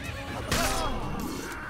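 In the Assassin's Creed video game, a horse lets out a loud, drawn-out neigh and whinny close by, with faint hoof clopping and ambient game sound underneath.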